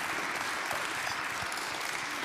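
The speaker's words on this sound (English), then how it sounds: "let's give a round of applause for Judith Mclaughlin, Julia Skinner, and Jessica" A culinary arts panel audience claps in steady, dense applause that holds evenly for a couple of seconds.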